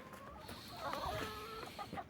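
A limping rooster outdoors gives a short run of low, throaty clucks, fairly close and moderately loud, with faint background noise and a sharp click at the end.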